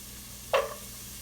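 Sliced carrots dropped into a pot of chicken noodle soup broth, one brief splash and clatter standing out against a quiet background hum, no talk.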